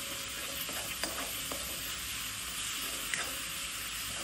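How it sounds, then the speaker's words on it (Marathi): Coconut, green chili and coriander paste frying with browned garlic in a pan: a steady close hiss and sizzle, punctuated by a few light stirring clicks and scrapes, with no talking. "लसूण लालसर झाल्यावरती त्याच्यामध्ये आपण टाकणार आहोत ही पेस्ट, खोबरं, मिरची आणि कोथिंबीरची। ती थोडीशी फ्राय करून घ्यायची आहे।"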